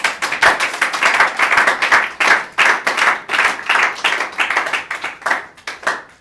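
A church congregation claps in steady, fast rhythmic unison, loud and close, with a few cheers mixed in, continuous throughout.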